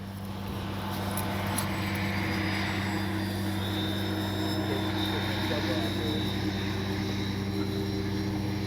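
A FlightLine OV-10 Bronco twin-engine RC plane flies in gusty wind, its steady propeller drone holding a constant pitch with a faint whine above it, at moderate distance.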